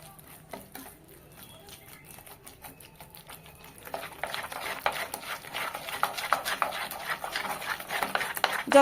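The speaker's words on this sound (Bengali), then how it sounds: "আর এর সঙ্গে আমি সামান্য জল দিয়ে দেব, যেহেতু ডিমের পরিমাণটা তাহলে বেশি লাগতো, একটু জল দিয়ে ফেটিয়ে দেবো।" Eggs beaten with a little water in a bowl: quiet at first, then a rapid, continuous tapping and clicking of the whisk starts partway through and carries on close by, growing a bit louder toward the end.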